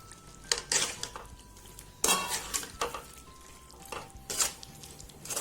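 Mushrooms fry in oil with masala in a pan for a pepper mushroom gravy, a soft sizzle under repeated scraping and clinking stirs of a spoon against the pan, close by.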